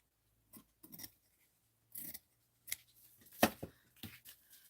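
Scissors snip through card for a mixed-media art journal in short, separate cuts close to the mic, several quick crisp snips in an otherwise quiet room.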